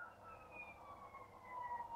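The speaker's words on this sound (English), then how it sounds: "Police car, right there." A police car siren wails faintly in the distance, a thin rising and falling tone drifting over a low background hum.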